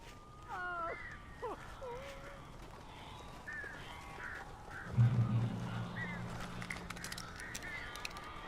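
Birds in the video game Alan Wake Remastered give several harsh caws and honking calls early on, then a low rumbling thump follows with scattered clicks over quiet background ambience.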